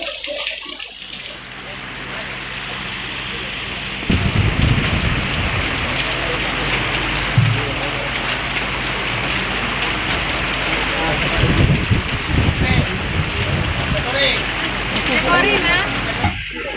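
Steady heavy rain pouring down outdoors on a journey to Painan, a dense continuous hiss with splashing on surfaces, and a voice speaking under the downpour.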